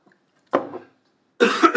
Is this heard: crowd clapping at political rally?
no